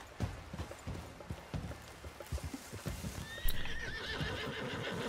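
A horse in Red Dead Redemption 2 trots with quick, soft hoofbeats, then whinnies loudly and clearly near the end.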